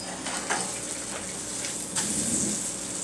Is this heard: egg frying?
yes